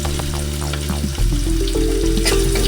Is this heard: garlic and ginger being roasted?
yes